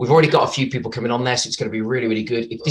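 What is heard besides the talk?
No everyday noise stands out behind the speech.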